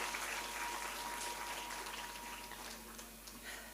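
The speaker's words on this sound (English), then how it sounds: "Huge round of applause for Professor Mahajan" An audience at a college event applauds a professor after an Industry 4.0 session, a faint, even patter of many hands that thins slightly toward the end.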